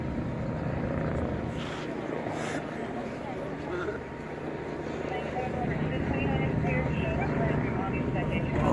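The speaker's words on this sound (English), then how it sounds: "we can hear the helicopter coming in" A low, steady rotor rumble grows gradually louder beneath a person talking, as if an aircraft is drawing nearer.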